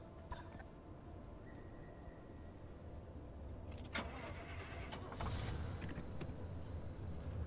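In the game Pacific Drive, a car engine cranks and catches, mechanical whirring and a few clunks rising into a low rumble over steady background noise, with no talking.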